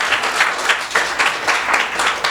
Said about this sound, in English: I know you can clap.